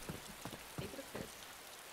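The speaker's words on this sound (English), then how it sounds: "Oh, the rain started" Rain falls in the survival game DayZ, heard as a faint, soft patter with a few gentle spattering bursts over a quiet background.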